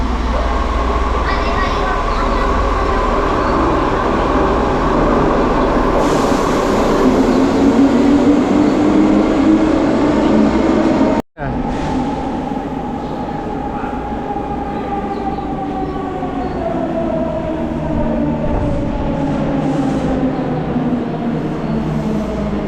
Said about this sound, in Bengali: একটু বাদেই আমাদের পরের ট্রেনটা এলো।